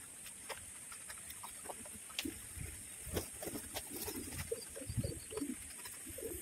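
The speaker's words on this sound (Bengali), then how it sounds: "তো দেখছেন এখানে কবুতরগুলো খাবার খাচ্ছে।" Pigeons coo steadily while feeding, with soft repeated calls and light pecking and shuffling sounds close by, and no talking.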